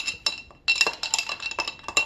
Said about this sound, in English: I'm just rinsing out my carafe right now, the pour over coffee maker.